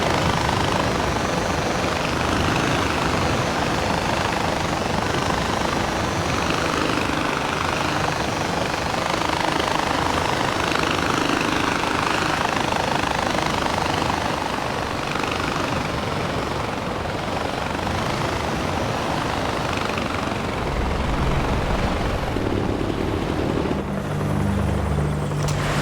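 A helicopter flying in the video game Far Cry 4, a continuous loud rotor drone with steady blade chop throughout, with no talking.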